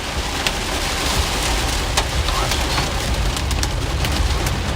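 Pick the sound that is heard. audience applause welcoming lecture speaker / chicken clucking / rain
rain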